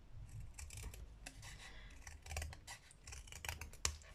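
Scissors snipping through paper for a scrapbooking project with paper clips, a series of quick close crisp cuts in an uneven rhythm, with light rubbing and handling noises between them and no talking.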